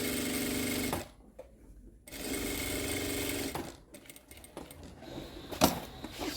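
A sewing machine stitches a laptop bag, running in loud steady bursts from the start to about one second and again from two to three and a half seconds, with quieter handling sounds and pauses in between.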